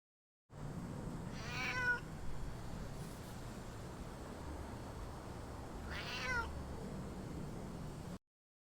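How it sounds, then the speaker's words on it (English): A cat meows twice, two drawn-out cries a few seconds apart over a low hissy background, fairly close. "C is for cat."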